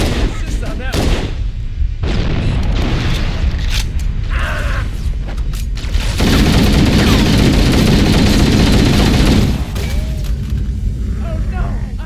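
A frag grenade blast in Halo: Combat Evolved, a loud booming burst that swells and rumbles for several seconds amid dense gunfire and combat noise, with voices talking over the fight.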